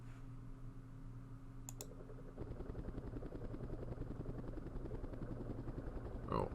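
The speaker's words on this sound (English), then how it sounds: "We have loaded helicopters." Helicopters in a Vietnam War strategy game start up after a few quiet clicks, then settle into a faint, steady rotor chop that keeps its rhythm to the end.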